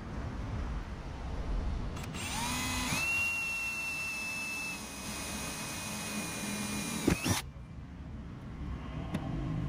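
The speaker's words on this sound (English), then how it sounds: "So I'm going to put the rivet holes in first and line that up." A drill bores rivet holes in a car panel while a DIY driver ventilation system is fitted. A single close motor whine spins up, holds steady for about five seconds, then cuts off with a brief clunk, with no talking.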